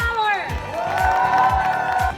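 A festival crowd cheers and whoops for a band at an outdoor city-day concert, with loud sustained cheering, a few rhythmic claps and thumping bass music underneath, a voice calling out over it.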